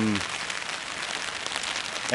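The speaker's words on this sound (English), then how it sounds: "it's pissing down rain" Heavy rain pours down steadily in the English Midlands, a dense continuous hiss lasting throughout, with a voice briefly heard at the start and end.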